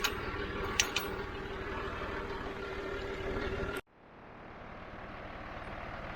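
A tractor fitted with a new Tufline grader blade idles in a steady, even rumble, then the engine noise cuts off abruptly and a quieter low hum slowly rises.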